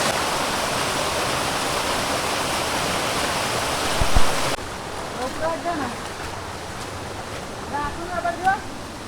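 Water rushes and splashes inside a cave temple, a loud continuous roar that abruptly drops to a softer flow partway through, with faint voices murmuring in the background.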